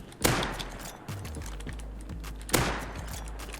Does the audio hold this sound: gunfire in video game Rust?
yes